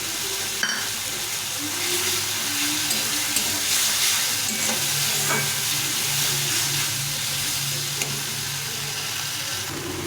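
Chopped tomato hits a pan of frying spiced masala, setting off a steady close sizzle and hiss with scraping stir strokes throughout, no voices.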